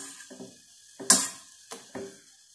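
Stirring a homemade itch-relief ointment mixture of oil and Vaseline as the Vaseline melts, with several distinct scraping clacks of a utensil against the pot, one sharp and loud, spaced with short pauses.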